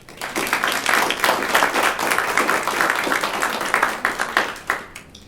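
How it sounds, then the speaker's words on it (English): An audience at a university honor society induction ceremony claps for the new inductees, a dense round of applause that swells and continues evenly before tapering off with scattered final claps. "Let's give them a round of applause."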